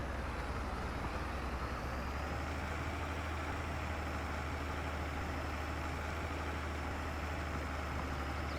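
A tractor engine runs steadily in the farming video game Farming Simulator 22, a continuous low, rumbling drone with a faint whine above it, holding an even level throughout with no talk.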